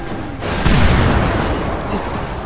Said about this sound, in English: We just had explosion.